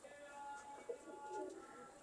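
Soft pigeon coos, low and rounded, come through a quiet hum of background noise, with a faint tonal drone running underneath.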